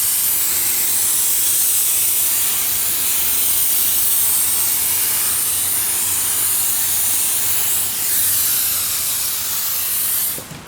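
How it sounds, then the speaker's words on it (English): Hydro dip activator sprayed in a steady, loud hiss over a water tank while dipping a helmet, continuous for about ten seconds before cutting off abruptly at the end. "We're gonna go ahead and spray our activator"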